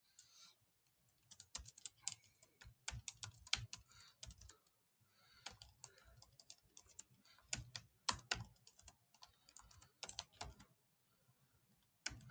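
Keys clatter on a computer keyboard in uneven bursts of close, crisp typing as a prompt is entered, with brief pauses between runs and no voices.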